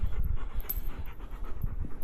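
A stressed, anxious dog pants rapidly and close up, in quick rhythmic breaths of steady loudness, with no talking.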